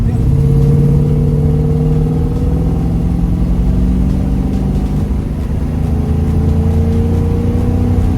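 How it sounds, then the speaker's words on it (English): A 1972 AMC Javelin SST's 360 V8 engine revving and droning continuously up close while driving, with a deep rumbling exhaust note that rises and falls in pitch. "I love that exhaust. That exhaust is incredible."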